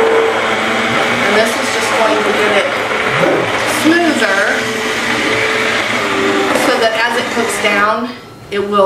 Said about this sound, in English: I'm going to go ahead and run the immersion blender through this